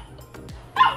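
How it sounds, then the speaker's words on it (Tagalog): Dogs fighting let out a sharp, sudden bark near the end, after a few faint yips and whimpers, close by and with no talking. "Ingay yung pusa ko, kawakyard at aso ko."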